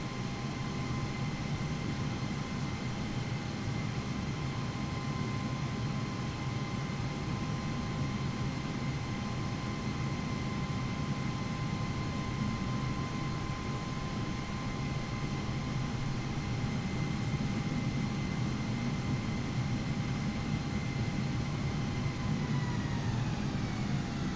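An airliner powers up for takeoff on runway 23 left at Mexico in Microsoft Flight Simulator 2020, a steady loud jet roar with a constant high whine that holds throughout without any voices.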